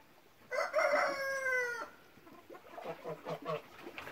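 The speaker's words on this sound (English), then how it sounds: "You tell those roosters, Lucy." A rooster crows loudly and close by in one long call at a farmyard with ducks and geese, followed by softer clucking from other fowl.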